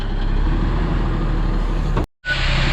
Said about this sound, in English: Second truck's here.